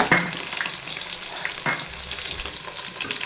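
Crushed garlic drops into hot oil with mustard seeds and bursts into a loud, dense sizzle, with a couple of sharp spatters and steady crackling frying close by.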